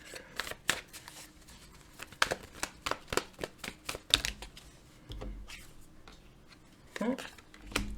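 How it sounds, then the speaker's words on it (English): Tarot cards being shuffled and drawn for a reading, giving a run of short, crisp card snaps and flicks at close range over several seconds, with quieter pauses between. "Let me go ahead and pull some clarifying cards here for you"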